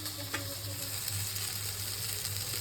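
Tomatoes dropped into a hot, oily pan while cooking pabda fish curry: a steady, close sizzle with crackling frying, fairly even in level, with a small pop near the start.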